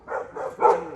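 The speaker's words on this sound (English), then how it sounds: "What y'all barking at?" Dog barks in a quick run of about three bursts, fairly close and moderately loud, with no talking.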